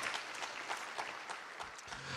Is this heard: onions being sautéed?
no